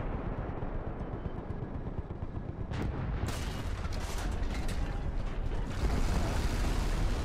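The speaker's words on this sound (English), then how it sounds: "30mm high explosive rounds will do that" 30mm high-explosive cannon rounds fired in War Thunder, a dense rumbling barrage of booming blasts with sharp cracks breaking through midway, loud and continuous over a gritty battlefield background.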